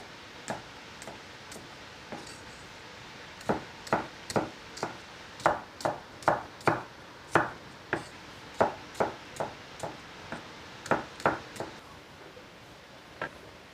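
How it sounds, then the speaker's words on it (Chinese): Knife chopping Sichuan ercai vegetable into thin strips on a board: sparse taps at first, then a steady run of about two dozen crisp, close cuts, tapering off at the end. "把它们全部切成小条。"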